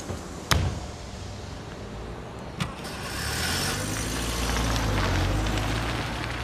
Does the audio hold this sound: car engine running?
yes